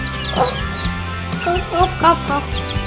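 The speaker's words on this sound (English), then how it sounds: "It's baby chicken. You see the little baby chickens?" High, thin peeping of baby chickens on a farm comes in short repeated cheeps, close by, over a busy background with some indistinct voices.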